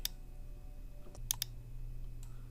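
Sharp, quiet mouse clicks at a computer while finishing a query wizard in MS Access, one click at the start and a quick pair further on, with faint softer taps in between over a low room hum.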